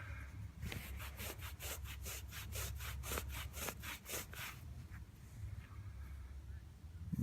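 A wheat penny coin is rubbed briskly in a quick back-and-forth series of about a dozen scratchy strokes. The rubbing is close and fairly quiet, then stops and leaves a low background hum.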